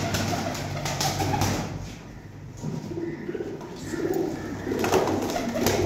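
Breeder pigeons in Jhelum coo in soft, repeated, throaty bursts over a steady low murmur of background noise.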